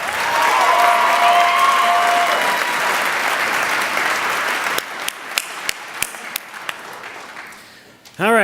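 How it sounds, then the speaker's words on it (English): Applause from a graduation ceremony audience at Freedom High School in 2016: a dense, steady roar of clapping that thins after a few seconds into scattered individual claps before fading out. "Give a big round of applause for Phil Dene"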